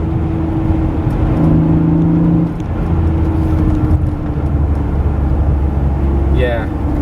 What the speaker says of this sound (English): This Dinan exhaust sounds really good